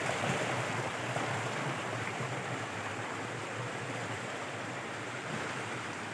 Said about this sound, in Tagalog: Ito yung pangatlong falls.